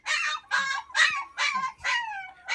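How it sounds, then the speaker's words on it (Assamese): A male puppy whimpers and yelps in a run of five short, high, nasal cries with brief pauses between them, close and fairly loud. "মেল পাপি এইটো"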